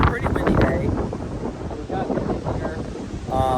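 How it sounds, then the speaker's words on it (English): Gusty wind on a windy day buffets the microphone outdoors beside a car, making a continuous loud rumbling roar that swells and eases over several seconds. "It's a pretty windy day."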